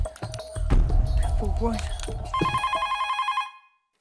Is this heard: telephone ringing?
yes